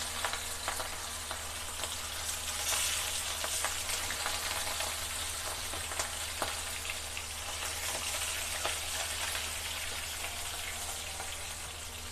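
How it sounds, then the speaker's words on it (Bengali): Soft, steady sizzle of fish frying in hot mustard oil, a faint crackling hiss that continues evenly without any voices. "মাছগুলোকে ভেজে নেব বন্ধুরা তেল আমার গরম হয়ে গেছে"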